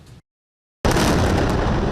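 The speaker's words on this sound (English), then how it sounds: "Relentless explosions and panic in the streets as Israel fights back" Strikes in Gaza City at night land as a sudden heavy, roaring blast after a brief silent gap, loud and sustained with rumbling debris, a short muffled burst just before it.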